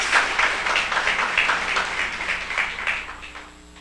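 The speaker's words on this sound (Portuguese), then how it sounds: "eu vou puxar as palmas aqui" Steady applause from a crowd, dense overlapping clapping that holds for a few seconds before thinning out and fading.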